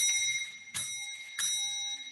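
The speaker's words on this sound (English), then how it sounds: "At the end of 5 minutes, you will hear this bell." A session timer bell rings three times in quick succession, each bright metallic strike ringing on with a sustained tone, loud and alone.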